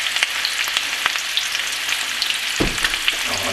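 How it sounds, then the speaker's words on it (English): A cup of onions fries in bacon fat with a loud, close, crackling sizzle, broken by scraping stirs and a heavier clatter near the end. "In goes your cup of onions. It's going to fry down for just a little bit."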